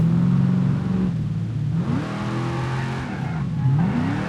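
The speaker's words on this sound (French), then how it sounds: "Et là je viens de crever un pneu. Donc là je drift sur la jante." Simulated car in BeamNG.drive drifting on its bare rim after a flat tire, a loud droning engine rising and falling in pitch through revs, close and continuous with no talk.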